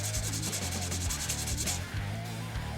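Steady rubbing of 600 grit abrasive sanding a guitar fret, a close, continuous scraping with repeated back-and-forth strokes, heard alone.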